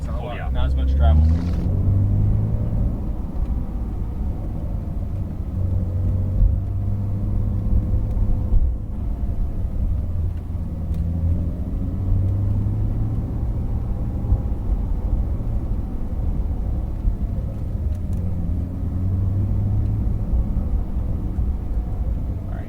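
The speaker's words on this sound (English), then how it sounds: "Keep progressively adding gas, keep building it up." A race car engine builds revs under steady throttle on the Las Vegas Motor Speedway track, a loud continuous low rumble filling the whole stretch with a voice talking over it.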